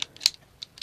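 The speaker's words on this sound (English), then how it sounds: "Put in your mag again." A Walther P38 pistol magazine is pushed in, giving a few sharp metallic clicks and a final louder snap, close and alone.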